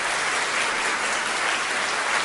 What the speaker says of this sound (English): A round of applause for all the awardees and also for Commodore Beecher